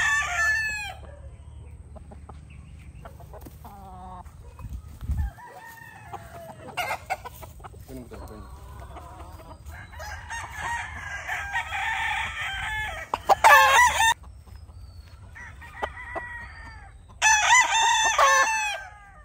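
White Kelso gamefowl roosters crow in repeated bursts, several loud nearby calls overlapping with softer clucks and distant crows against a low background hum.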